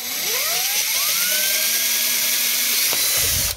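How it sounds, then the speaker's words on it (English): A power drill whines as it spins up drilling a hole in a container, pitch climbing then holding steady at a high buzz, close and continuous, before winding down at the end. "we're going to get the first hole drilled into the container"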